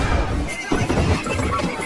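A horse in a film scene whinnies in fright after a loud blast, a short neigh set against a dense, noisy background of commotion.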